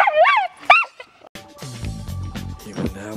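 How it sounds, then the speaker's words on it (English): A pet dog barks and yips in a series of loud, close calls, with whimpering yelps at the start followed by a denser run of sharp barks. "He won't stop barking at dogs though."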